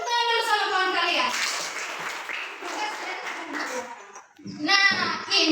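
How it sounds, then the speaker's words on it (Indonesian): Schoolchildren in a classroom clap for a classmate in a lively burst of applause. Their voices chant and call out together over the clapping, pause briefly, then rise again. "kasih tepuk tangan dulu sama kawan kalian"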